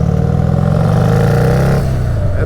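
A turbocharged Harley-Davidson 131ci Stage 4 Street Glide engine pulls hard under throttle, a loud, steady, close rumbling drone with a rising whine as boost builds, no talk.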